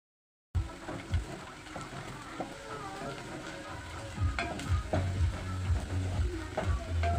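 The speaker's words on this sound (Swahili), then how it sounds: "we place in or we pour in our chopped onions" Chopped onions poured into heated oil, sizzling up suddenly after a moment of silence and then crackling steadily with stirring and scraping in the pan.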